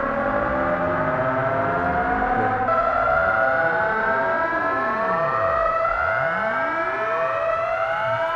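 A huge build-up sweep effect from a future house track, with layered rising and falling pitch sweeps over a sustained tone, loud and continuous for the whole stretch with no voices.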